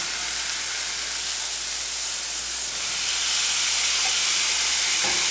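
A steak sizzles loudly on a hot grill as it is turned, a steady bright hiss that swells slightly louder toward the end, with no talking.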